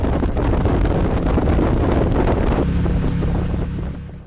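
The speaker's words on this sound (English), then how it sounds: "The boat is very fast, doing around 40 miles an hour." A fast jet boat speeds along the Dart River at around 40 miles an hour, its loud steady engine and water rush mixed with wind buffeting, easing and fading slightly near the end.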